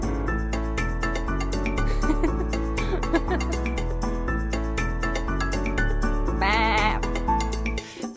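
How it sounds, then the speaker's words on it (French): Sheep bleat within a French children's nursery rhyme about a black sheep. Near the end, a short bleat rises over a steady, loud musical backing with a regular beat. "Bébé mouton noir"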